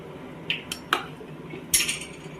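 Spoon mixing chicken with yogurt and lemon juice in a metal vessel, giving a few sharp, close clinks and scrapes in an otherwise quiet kitchen.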